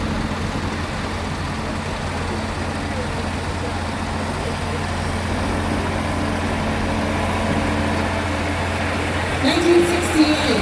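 A museum-owned Allis-Chalmers tractor drives in an outdoor parade at a show in Wolford, North Dakota. Its engine gives a steady, low, continuous drone that holds even throughout.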